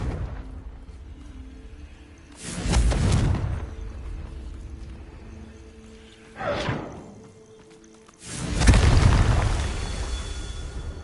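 Three Confringo blasting-spell explosions in Hogwarts Legacy, each a loud booming burst with a roaring decay, spaced a few seconds apart over low ambient game sound.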